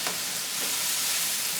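A homemade stir fry sizzles steadily in a hot pan, a close, even crackling hiss that holds through the short moment with no voices.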